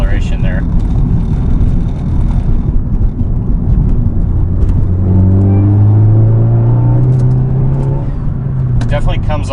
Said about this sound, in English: They tune their exhaust pretty nicely. Yeah, nothing crazy, but it's definitely there with some part throttle acceleration there.